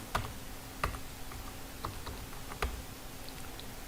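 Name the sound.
typing on a computer keyboard in MS Word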